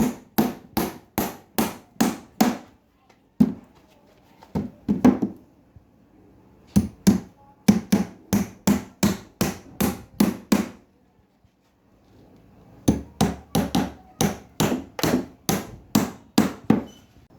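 Nails are hammered into wooden concrete formwork. Sharp, ringing blows come in quick bursts of six to ten strikes, separated by short pauses, loud and close.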